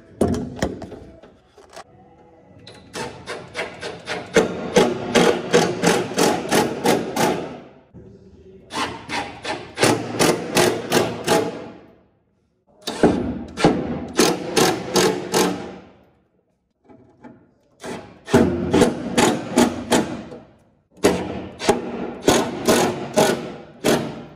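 A power drill drives screws into pre-drilled holes during final assembly, several bursts of motor whirring a few seconds each, separated by short quiet pauses, close and fairly loud, with no talk.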